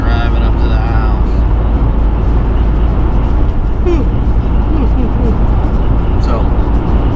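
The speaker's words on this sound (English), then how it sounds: "I get a cool shot of me driving up to the house." A Toyota Tacoma pickup truck drives up to a house, its engine rumbling steadily up close with road and wind noise throughout, and a voice talking over it.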